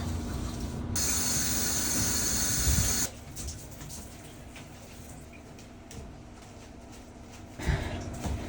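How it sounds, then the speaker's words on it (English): A loud continuous spray of cleaner hisses in a bathroom for about two seconds, followed by quieter clicking and handling sounds and another brief hiss near the end. "Spraying your bathroom ahead of time makes the cleaning process so much easier."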